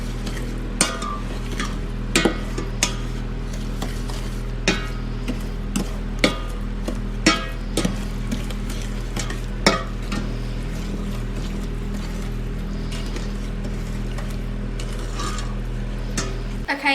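Eggs being stirred into brownie batter in a bowl, giving a steady scraping and stirring sound with scattered light clicks of the utensil against the bowl, close and continuous with no talking.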